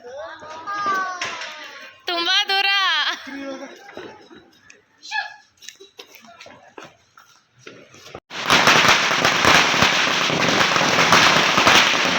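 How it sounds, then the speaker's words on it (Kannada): Diwali firecrackers burst at a family home. Voices, including a child's, talk over scattered clicks at first, then a loud, rapid string of crackers goes off continuously for several seconds. "ಚೆನ್ನಾಗಿ ಹೊಡೆದೆ ಪಟಾಕಿ"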